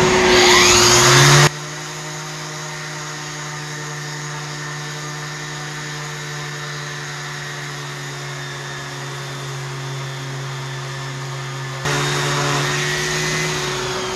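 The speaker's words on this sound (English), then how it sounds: "So the first step today will be to sand off the paint and make sure I know where those fasteners are" Power sander removes paint from a wooden boat plank with a loud, steady whining drone. It starts abruptly, holds at a lower level through the middle, and rises again near the end, with no talk.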